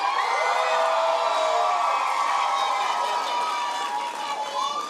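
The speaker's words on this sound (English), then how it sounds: "I need you to cheer like you're getting your encore" Graduates at a college graduation ceremony cheer together as if calling for a concert encore, a loud sustained crowd roar of shouts and whoops that holds steady for several seconds.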